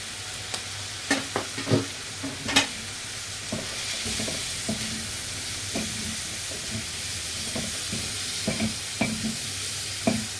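Three large tomatoes frying in a pan for chicken sac kavurma, a steady hiss with occasional stirring clicks and scrapes, close and moderate, no voices.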